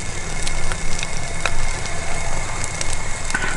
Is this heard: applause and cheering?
no